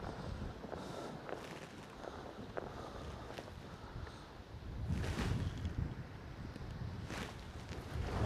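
Cold wind buffets the microphone on a catfishing boat out on deep water, a steady rushing roar that swells midway, with faint knocks and movement aboard and no talk.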